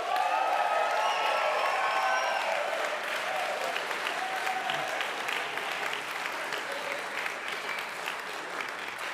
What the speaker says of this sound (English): So I'm sure we'd like to give all the euphoniums a bit of a cheer.